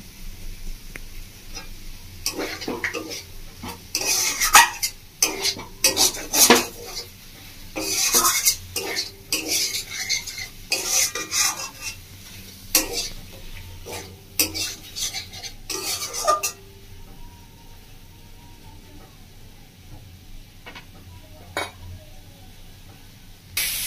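Spoon scraping and clinking against a pan as spiced okra masala with vegetable masala powder is stirred and sautéed, village style; bursts of metallic stirring come in irregular clusters, then fade to quieter sizzling.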